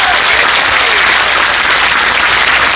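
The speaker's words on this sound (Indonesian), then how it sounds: "Tepuk tangan untuk NU Taiwan." Steady, dense applause from an event audience at an Islamic religious gathering (pengajian), continuous and loud throughout with no pauses.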